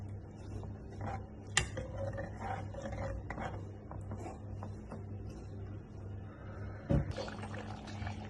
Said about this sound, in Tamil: இப்போ 2 டம்ளர் தண்ணி ஊற்றி ஒரு 15 நிமிஷம் வேக வச்சுக்கலாம்.